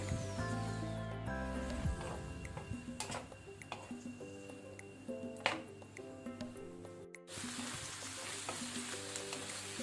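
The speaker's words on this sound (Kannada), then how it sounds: "ಈಗ ನಾನು ಫ್ಲೇಮನ್ನು ಹೈಯಲ್ಲಿ ಇಟ್ಕೊಂಡು ಒಂದು 2 ಮಿನಿಟ್ ಇದನ್ನು ನಾನು ಫ್ರೈ ಮಾಡ್ತೇನೆ." Cauliflower and frozen green peas fry on high flame in a pan while a spatula keeps stirring, giving a steady sizzle broken by scraping taps and clinks, with a short dropout near the end.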